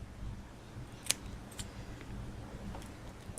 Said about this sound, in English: Now you just want to cut off the excess.